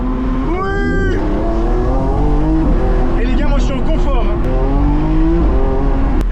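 Lamborghini Revuelto V12 supercar engine revving loudly nearby, rising and falling harmonic tones with a sharp surge in the middle, while people talk over it.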